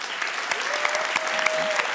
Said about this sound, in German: Dieser Applaus sagt dir